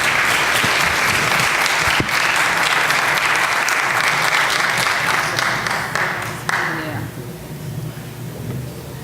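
Sustained audience applause at a town hall gathering, loud and dense for about six seconds before thinning out and fading toward the end, with a few voices faintly mixed in.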